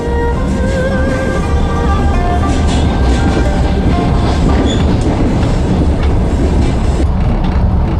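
A passenger train runs along a Siberian railway, a loud continuous rumble of rolling wagons with metallic wheel squeal and faint rhythmic clatter throughout, steady and close.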